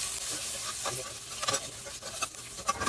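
Bacon fries in oil in a pan with a close, crackling sizzle, broken by short spatula scrapes and light stirring sounds.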